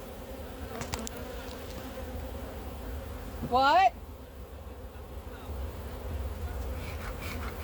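Honeybees buzz around a hive during a beekeeping visit, one loud close buzz sweeping past amid a steady background hum, with a person briefly speaking.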